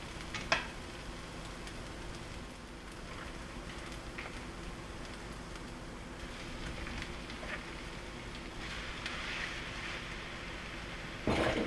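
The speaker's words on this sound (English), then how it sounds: "I'm going to add the meat to the pan and then cook it until it's brown" Ground beef and chopped onion frying in a pan, a steady soft crackling sizzle that runs unbroken throughout, with a couple of small clicks and no talk.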